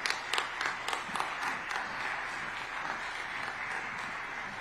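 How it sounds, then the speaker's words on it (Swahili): Audience applause at the opening of the 30th Southern African public broadcasters' conference, a dense steady clapping that starts with a few sharper claps and then settles into an even wash, fairly distant and moderate in level. "naomba tumpigie makofi kwa wingi zaidi mara moja tena"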